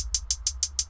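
A synthetic hi-hat loop programmed in FL Studio for an electro pop beat ticks six times in under a second, with crisp, bright, evenly spaced hits at a fast tempo over a low rumble.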